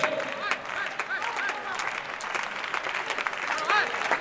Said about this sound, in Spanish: Pidió las palmas él.